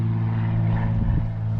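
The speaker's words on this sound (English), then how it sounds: "The aeroplanes never go away here with the airport." A propeller airplane flies over near an airport, a steady loud engine drone that swells slightly midway and carries on without any talking.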